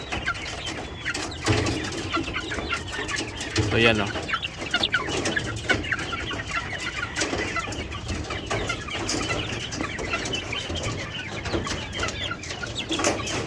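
A chick with a badly swollen face clucks on a farm, soft repeated clucks and peeps scattered over a steady background, with someone talking throughout.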